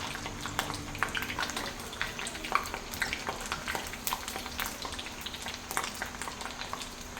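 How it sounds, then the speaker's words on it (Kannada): Chakli, a spiral rice snack, frying in hot oil until brown for the Varamahalakshmi festival, with a steady close crackle and sizzle of many small pops, with no voices. "ಈ ಚಕ್ಲಿ ಕಂದು ಬಣ್ಣ ಬರೋವರೆಗೂ ಫ್ರೈ ಮಾಡ್ಕೋಬೇಕಾಗುತ್ತೆ"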